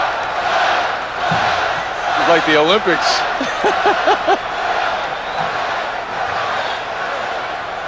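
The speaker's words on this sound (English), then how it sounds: "Let's see what happens as the crowd chants Spud." A packed basketball arena crowd roars and chants at the 1986 NBA Slam Dunk Contest. Sustained loud crowd noise runs throughout, with a rhythmic group chant in the middle and a voice talking over it.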